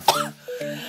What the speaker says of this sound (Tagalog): inuubo pa rin ng buyo